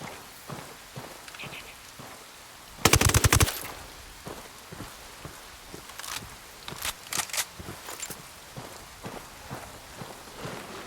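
A suppressed MP5 submachine gun fires in the video game Ghost Recon: one loud burst of rapid muffled shots early on, then scattered short clicks and quieter single shots.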